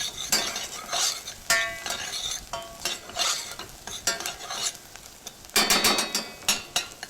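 Food is stirred briskly in a hot frying pan while cooking a roast farm capon dish, with irregular scraping and clinking strokes of the utensil over a soft sizzle, close and fairly loud, with no talking.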